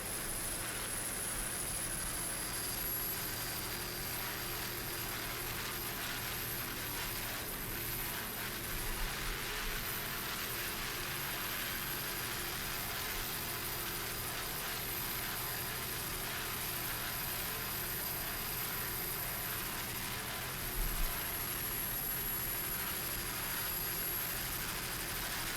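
Mercury 525 horsepower inboard engines on Class 5 offshore racing powerboats, including a 29-foot boat, roar continuously and steadily at a distance during a powerboat race off Biloxi, Mississippi, with a faint high whine layered over the sustained drone.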